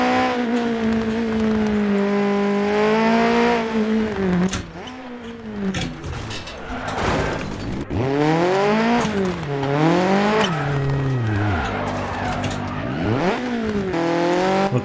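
A Group B four-wheel-drive rally car in Dirt Rally 2.0 roars close and loud, its engine climbing and dropping through repeated gear shifts, with brief tire scrabble between bursts of acceleration.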